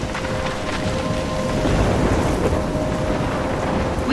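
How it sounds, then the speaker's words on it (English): Heavy rain and rumbling thunderstorm noise in the video game Life Is Strange, a dense, steady roar with low booming rolls and a faint tonal hum running beneath, loud and continuous with no talking. "I'm trapped in a storm?"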